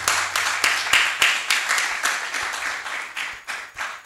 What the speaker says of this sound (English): So shall we please clap for them?